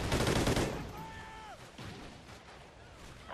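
Gunfire in the video game Call of Duty Ghosts: a loud dense burst of automatic fire at the start, then fainter scattered shots under a busy battle mix with brief voices.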